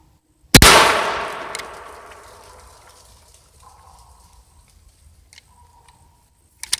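A single sharp 20-gauge shotgun shot cracks, hitting a metal car fender at about 100 yards with a long clanging decay, then quiet with faint distant knocks.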